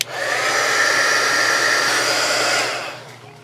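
A handheld craft heat dryer blows steadily and close up while drying ink on a crafted playing card, running loud and even for about three seconds before winding down, with no voices.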